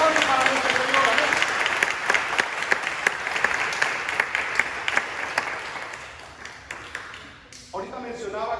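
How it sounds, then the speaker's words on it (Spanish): A church congregation applauds in a dense sustained burst that fades after about seven seconds, and then a preacher's voice comes back in. "un aplauso para nuestro Señor"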